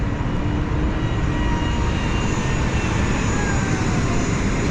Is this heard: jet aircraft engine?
yes